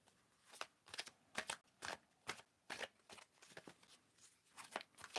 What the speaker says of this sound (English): I'm going to shuffle until you tell me to stop.